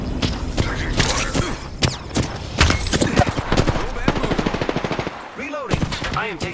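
Rapid automatic gunfire in Apex Legends, dense bursts of sharp shots cracking one after another over several seconds, loud and close, with game effects and voice lines mixed in.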